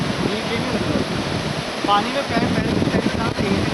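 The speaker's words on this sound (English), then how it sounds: "the water is flowing at a really high speed" Fast-flowing river water in a rushing, continuous wash, loud and near, with a voice speaking over it.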